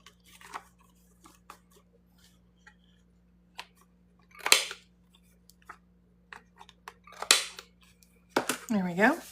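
Scissors snip through paper while trimming part of an Easter journal belly band slider, giving a few close, sharp cuts spread through the stretch, with quieter handling clicks between them and a short voice-like sound at the end.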